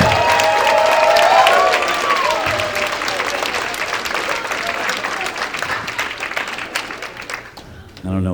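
A comedy audience applauds and cheers a stand-up comedian, loud and dense clapping that swells early then slowly thins over several seconds, with a voice coming in over it near the end.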